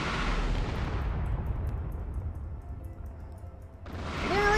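Small missiles launch in Space Engineers, a loud broadband roar of firing that decays over several seconds into a rumbling tail before a fresh blast swells near the end.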